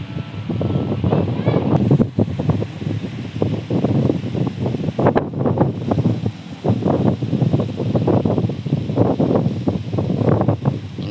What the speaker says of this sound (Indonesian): saya ngeri nih angin gede